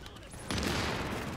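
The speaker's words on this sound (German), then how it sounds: "der hat auf mich geschossen mit seinem Raketenwerfer" A rocket launcher fired at the player in The Division video game: a loud, broad blast bursts in suddenly and sustains its roar over a dull background rumble.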